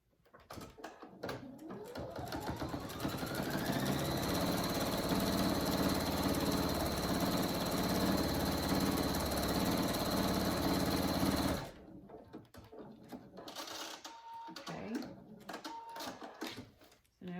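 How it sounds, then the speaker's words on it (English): A sewing machine stitches fabric for a three-tier hanging honeycomb animal hammock, running in one steady, close, continuous whir for about ten seconds before stopping, followed by quieter handling noises. "when you put it under your sewing machine"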